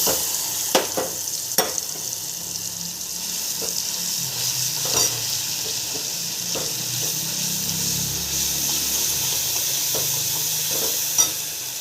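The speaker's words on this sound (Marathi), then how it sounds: "बघा तेल तापलेलं आहे आपण जो मसाला ओला केला तो टाकायचा आहे" Wet masala paste sizzles steadily in hot oil for a cauliflower gravy, a dense frying hiss with occasional sharp crackles and pops throughout, close and fairly loud with no talking.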